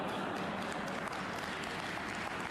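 Sustained applause from a snooker audience, dense steady clapping at moderate level throughout.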